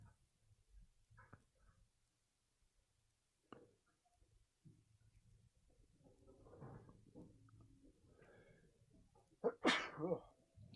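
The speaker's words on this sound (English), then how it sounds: "Get a little sneezing out of my system there." One loud, sharp sneeze near the end, preceded by quiet shuffling, faint muffled sounds and a low breath.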